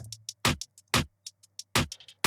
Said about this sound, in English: Number 1 was a hat loop.